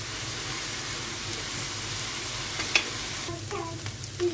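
Steady sizzling of vegetables frying in oil for a pilaf garnish, with a few stirring clinks and scrapes near the end.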